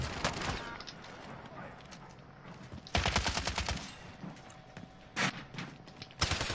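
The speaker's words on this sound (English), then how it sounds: "There's somebody shooting at me." Gunfire in the shooter Warzone, with distant scattered shots and then several loud rapid bursts of automatic fire in clusters, between quieter gaps of background game sound.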